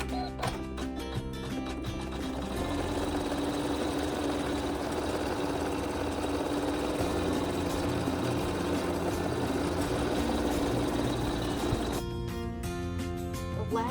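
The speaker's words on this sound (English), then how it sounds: "go ahead and hit the start button and take a few stitches" Navigator 8 quilting machine running a steady stitching sequence, a continuous close mechanical whir with rapid repetitive needle rhythm that starts and stops at the edges.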